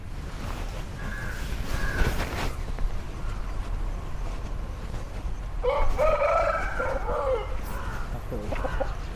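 Fighting roosters bred for cockfights at the Sankranti festival crow amid a noisy outdoor scene, with two or three crows standing out over a steady low rumble of background noise.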